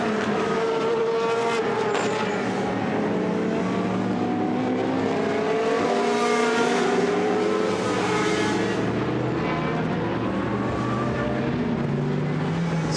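GT race cars cross the line at Misano in a Blancpain GT Sports Club race. Loud, continuous engine howls overlap and shift in pitch as the cars pass close by.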